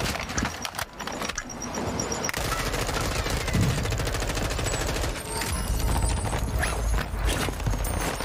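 Rapid automatic fire from a VEL 46 in Warzone 2.0 on Ashika Island, dense loud bursts rattling almost continuously with a brief lull near the start.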